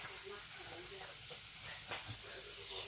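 Leeks in a hot pan keep up a faint, steady sizzle and hiss after the heat is switched off, with a soft stir or two, quiet and close.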